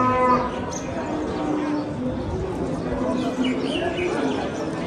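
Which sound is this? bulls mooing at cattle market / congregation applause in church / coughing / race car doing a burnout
bulls mooing at cattle market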